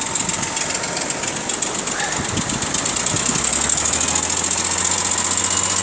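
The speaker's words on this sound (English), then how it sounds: "Powerful tractor is pushing out some diesel fumes, getting the heavy boat into the ocean." Heavy diesel tractor engine labouring steadily as it pushes a heavy boat into the ocean at a beach launch, a constant loud rumble with a low drone that deepens partway through over surf and wind noise.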